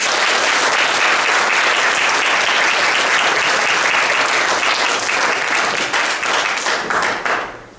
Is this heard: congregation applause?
yes